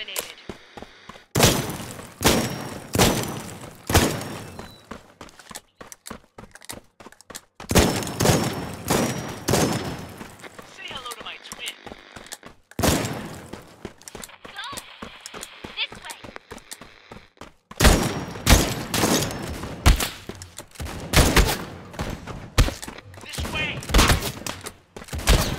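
Assault rifle fire in the mobile shooter Disorder comes in several loud, rapid bursts of close gunshots, separated by brief pauses filled with lighter battlefield clatter.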